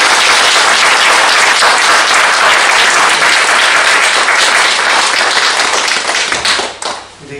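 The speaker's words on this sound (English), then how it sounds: "And if I can ask you to give them a round of applause" A loud, dense round of audience applause at a public health lecture, sustained and even throughout, then tapering off abruptly near the end.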